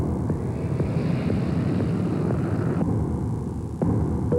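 A steady airplane engine roar under a TV advertisement, heard as a continuous loud drone from a plane preparing for takeoff with only a few faint clicks and shifts on top.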